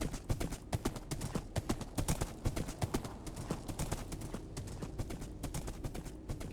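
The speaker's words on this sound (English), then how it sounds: "Just riding through the Nether on my faithful steed" Steady clip-clop of horse hooves while riding a steed through the Nether in Minecraft, a quick even rhythm of close footfalls with faint background ambience.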